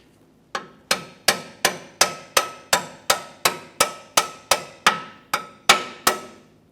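Sharp metallic hammer taps on a stuck U-bolt of a 1999-2006 Chevrolet Silverado 1500 rear end, about fifteen in a steady rhythm, each ringing briefly before the next strike, close and clear with no talking.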